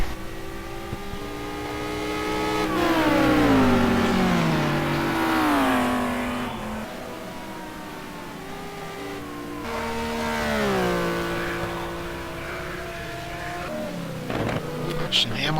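GT2 race cars lap Sebring in a racing video game, engines revving and shifting through gears as cars pass close by, with a commentator talking over the engine noise.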